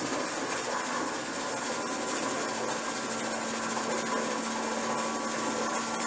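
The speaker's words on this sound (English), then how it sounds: "This is going to create a vacuum, so the lid's vacuumed on." Electric jar vacuum sealer pulling a vacuum on a regular or wide-mouth canning lid, a loud, steady motor whir with a constant hum, running without pause and alone.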